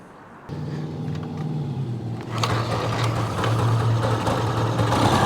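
A seized Yamaha GT80 motorcycle engine, freshly freed, runs rough after starting, its uneven buzzing idle rising and growing louder and closer partway through, with no talk over it.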